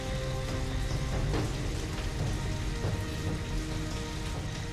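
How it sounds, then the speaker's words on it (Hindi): Heavy rain pouring steadily at night, a dense, even hiss of drops on surfaces with no breaks, loud and close throughout. "बारिश भी बहुत तेज हो रही है"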